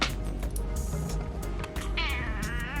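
A kitten meows indoors on a snow day, a couple of drawn-out, wavering cries standing out over low room noise, fairly close and moderately loud.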